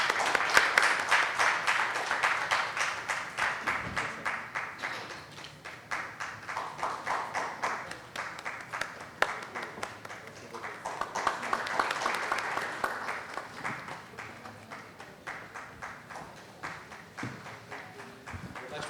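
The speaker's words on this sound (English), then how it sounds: "a huge round of applause, please." Audience applause at a Constitution Day panel event, a broad, steady patter of many hands that swells and eases over the span, with faint voices underneath.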